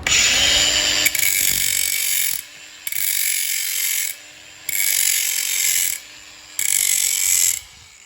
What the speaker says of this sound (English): I'm gonna use my grinder, my angle grinder, and I use the angle grinder.